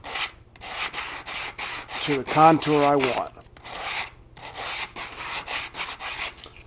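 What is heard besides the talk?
sanding the edge of a shell to re-contour it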